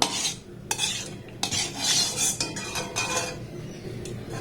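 Hot ghee being spread around a kadai with a spoon produces a few sweeping metallic scrapes over a faint sizzle, heard close and alone.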